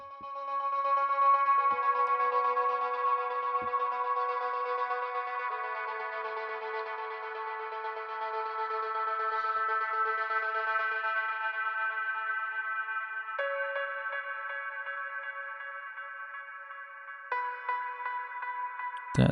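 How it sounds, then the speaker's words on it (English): A sustained synth pad in a deep progressive house track, run through a delay effect, holds soft layered chords that smear and repeat for nearly twenty seconds. The chords shift a few times, and a brief click comes at the end. "That's a bit of a reverb, I mean delay."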